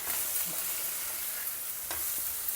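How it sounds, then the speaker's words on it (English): Potato pieces tossed with masala spices in a hot pan give a steady, close sizzle of frying with a few soft scraping stirs, and no one talks. "Toss them well so that all the pieces are well coated."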